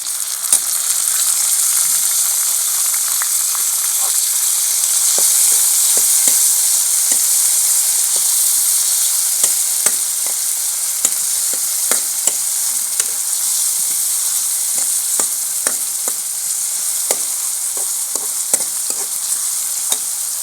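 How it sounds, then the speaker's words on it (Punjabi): Onion and green chillies fry in hot oil for a biryani, a steady bright sizzle throughout with scattered small pops and the occasional stir. "ਗੰਡਾ ਭੁੱਜ ਗਿਆ ਸਾਰੀ ਮਿਰਚ ਤੇ ਹੁਣ ਟਮਾਟਰ ਪਾਵਾਂਗੇ"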